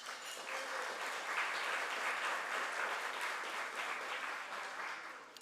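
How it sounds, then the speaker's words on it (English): Banquet guests applaud sponsors: a dense, even round of clapping from a large room fills about five seconds, steady and somewhat distant, then tapers at the end. "thank you all, and one more round of applause"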